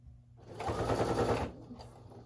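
Sewing machine stitching binding onto a quilt, a close, steady mechanical whir with a fast rhythmic needle chatter for about a second before easing off to quieter handling sounds.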